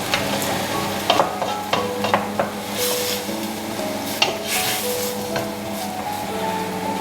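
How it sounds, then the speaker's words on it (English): Chow mein ingredients sauté and brown in a hot pan, a steady broadband sizzle running throughout with scattered scraping and clicking of a utensil stirring, close and fairly loud, no talking. "Just nicely sauteed off"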